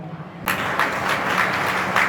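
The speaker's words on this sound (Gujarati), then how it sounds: "તાળીઓના ગડગડાટ સાથે એમને વધાવી લઈએ." Audience clapping at a community appreciation and prize ceremony, a burst of applause that starts abruptly and holds steady and fairly loud to the end.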